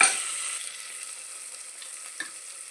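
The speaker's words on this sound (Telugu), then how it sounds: "ఒక 5 నిమిషాలు అలాగనే వదిలేస్తే ఫ్రై అయిపోతుంది." Vegetables for sambar, including tomato, fry with a steady soft sizzle that stays even and faint after a brief louder start, with one small clink near the end.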